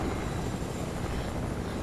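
A helicopter in the Fortnite video game, a steady, dense rotor and engine drone holding constant and close throughout, with no talk over it.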